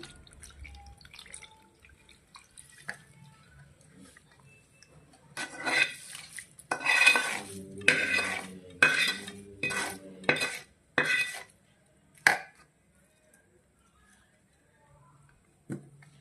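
Amla pickle mixed with hot garlic oil is stirred with a metal spoon in a bowl, a burst of quick scraping, clinking strokes in the middle after a quiet start, then fading back to near silence.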